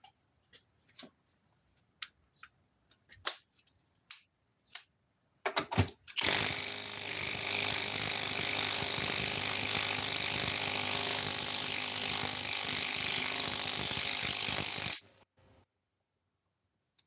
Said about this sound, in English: let's put it on the mid-torque that came out 3 years ago